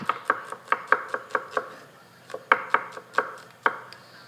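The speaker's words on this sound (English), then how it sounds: "we slice the onions and fry it" A knife slices onions on a cutting board in a café kitchen, with a dozen crisp, close chopping taps in irregular bursts and a short pause partway through.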